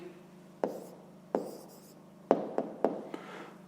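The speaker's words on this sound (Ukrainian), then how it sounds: "Записуємо відповідь." Pen writing an answer by hand for a fifth-grade math exercise, a handful of sharp, close taps and short scratchy strokes spaced irregularly over a quiet room.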